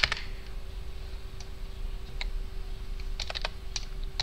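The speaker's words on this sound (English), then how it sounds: "so you type in minus 200" Typing on a computer keyboard while drafting in AutoCAD: scattered, crisp key clicks, a few single taps and then a quick cluster of keystrokes, close up over a steady low hum.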